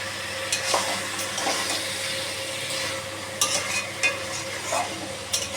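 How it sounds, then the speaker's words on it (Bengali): Mutton sautéing in a pan while being stirred, continuous sizzling and frying with repeated scraping and stirring knocks of a spoon against the pan, close and fairly loud. "এই মাংসের যে জলটা আছে এটা দিয়ে দিয়ে আমি কষিয়ে নেব।"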